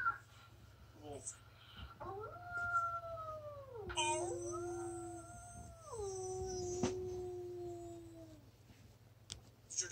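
A human voice imitates a wolf, drawing out a long wavering howl that slides up and down in pitch, followed by a second howl, over a low steady hum.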